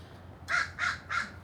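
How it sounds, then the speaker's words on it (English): Crows caw outdoors at a campsite, three harsh calls in a quick evenly spaced series, moderately near and clear over quiet wind. "The crows are being very loud."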